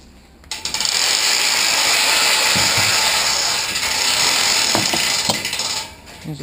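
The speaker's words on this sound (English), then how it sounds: "remember to undo the winch at the back" A winch ratchet on a homemade beach trolley for a Sea-Doo Spark is released, giving a loud, sustained metallic rasp with a few sharp clicks near the end.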